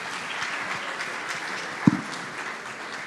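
Audience at a Mumbai tech conference claps steadily for the speakers and moderators, a dense, even wash of applause that runs throughout with one sharp nearby knock partway through.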